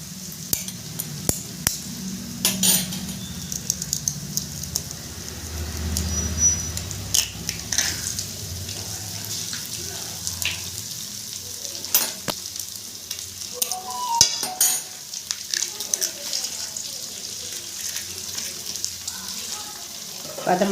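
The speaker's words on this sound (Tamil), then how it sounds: "இந்த வெங்காயம் எல்லாம் வதங்குது" Chopped onions and egg sizzle and fry in a pan while being stirred, with steady crackling and scraping strokes of the spoon close up, and a brief voice now and then.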